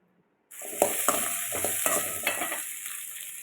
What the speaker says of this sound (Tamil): சின்ன வெங்காயம் வந்து நான் இவ்வளோ எடுத்திருக்கேன் இப்போ எண்ணெய் விட்டு வதக்கி எடுத்துக்கலாம்